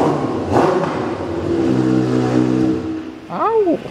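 A Kawasaki ZX6R motorcycle without its mid pipe and canister cranks and catches, settling into a brief, rough running tone, then a quick rising and falling rev near the end; a voice speaks over it.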